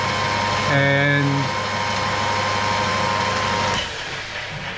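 A lathe turning a taper spindle at a controlled feed, a steady motor hum with a brief higher tonal whine early on, and a voice speaking over it.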